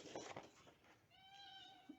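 A pet cat meows indoors during a craft session, one drawn-out, rising-and-falling meow that is faint and close, with soft handling noises before it and no talking.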